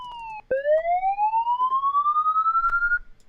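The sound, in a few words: siren sound effect triggered in software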